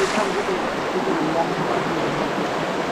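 Steady rushing water of a cold river near the Tambdi Surla Mahadev Temple fills the scene, a constant broadband wash with no pauses.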